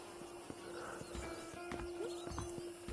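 Steady clopping hooves of a stolen horse in Red Dead Redemption, with a short whinny over a faint tonal hum, close and alone without voices.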